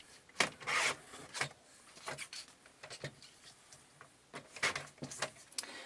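Scissors snip through a small piece of glimmer paper in a few short, crisp rasping cuts, close and fairly quiet, with brief pauses between bursts and no voice.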